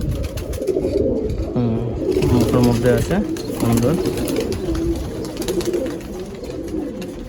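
Young pigeons, mostly patta birds in the female section of a pigeon loft housing Giribaz, Pakistani, Longduma and Madrasi breeds, coo in low rolling bursts beneath people talking close by.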